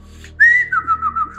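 A person whistles in imitation of a bird, a single clear rising then slowly falling tone with a few wavering pulses, close and alone over faint background hum.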